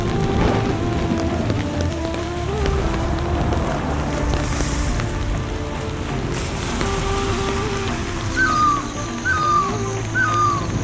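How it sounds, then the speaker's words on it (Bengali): Rain falling in the Darjeeling hills during an unseasonal monsoon evening, a steady patter over a low humming background, with a few faint repeated bird calls appearing near the end. "কিছুক্ষণ বাদেই বৃষ্টি নামলো।"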